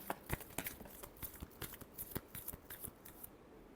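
Tarot cards are riffled and shuffled in quick, crisp bursts, a soft rapid patter of papery flicks close by with no voices.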